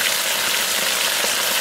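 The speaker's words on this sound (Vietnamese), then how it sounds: "Bây giờ mình sẽ cho thịt bò vào chiên." Beef frying in a pan for Mongolian beef, a steady dense sizzle filling the clip at close range with no talking over it.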